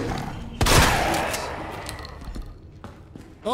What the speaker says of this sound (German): Jetzt will ich mit Schrot schießen auf die Mistviecher